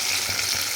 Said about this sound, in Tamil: இந்த பக்கம் நம்ம போட்டிருக்கேன் இந்த வெங்காயம், அதாவது கத்திரிக்காய் பழமும் இப்படி நல்லா வதங்கியிருக்கு